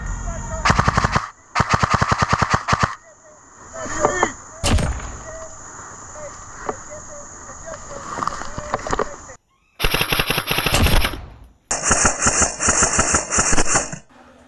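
Rapid bursts of airsoft gunfire rattle in quick strings, separated by quieter gaps with a faint hum, then more loud sustained bursts near the end.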